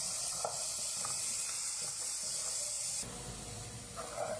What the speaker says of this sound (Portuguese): Vou dourar um pouquinho o alho e a cebola